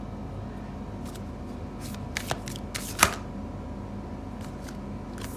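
Tarot cards are shuffled by hand in brief bursts of riffling and flicking, with a sharper snap near the middle, close and fairly quiet against a low steady background hum.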